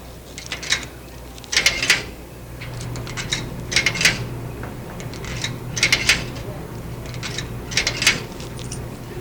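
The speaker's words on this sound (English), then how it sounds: "throw a few quarters in here" Several bursts of metallic clinking as quarters drop into a laundromat dryer's coin slot, coming in short clusters about every two seconds.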